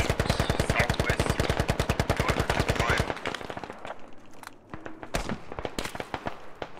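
Machine gun fire in the Squad video game: a loud, rapid sustained burst for about three seconds, followed by scattered single shots and distant cracks echoing through the battlefield.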